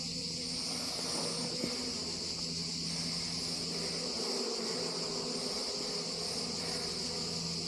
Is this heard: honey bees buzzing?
yes